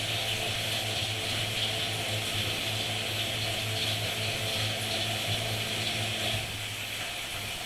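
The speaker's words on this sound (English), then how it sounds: "that is the waste pump pumping the water out of here" A waste pump drains water out of an indoor pond's filter barrel, giving a steady, even hiss and watery rush with a low hum underneath, unbroken and fairly close.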